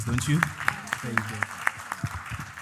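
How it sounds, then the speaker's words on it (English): An audience at a conflict prevention and peace forum in Accra gives scattered, crisp applause for a high-level panel while a speaker talks over the claps. "I actually think our high-level panel deserves a much bigger applause"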